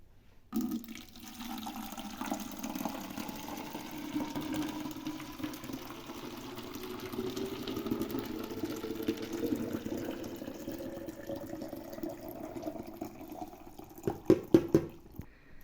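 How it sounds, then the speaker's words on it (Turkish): Hot water poured steadily into a container for a color-change Barbie doll, a continuous mid-pitched flowing gush lasting most of the clip, ending with a few brief clinks or splashes. "Şimdi sıcak suyumuzu dökelim."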